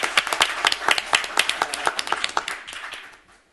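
A group of people claps at a community gathering, dense quick claps for about two and a half seconds before thinning out and fading to quiet.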